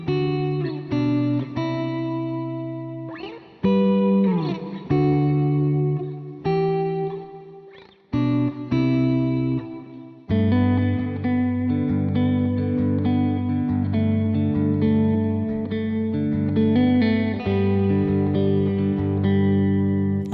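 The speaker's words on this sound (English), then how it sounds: "I would go clean, maybe a little bit of reverb," Clean electric guitar with a little reverb, finger-picked: sustained plucked chords and melodic notes ring out loud and alone, with short pauses early on before a fuller, continuous passage.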